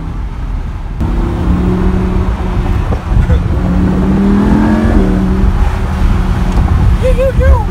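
A red Lamborghini Huracan engine drones and revs while driving, a loud continuous low growl with rising and falling pitch sweeps and a brief throttle lift midway, heard from inside the car under faint voices.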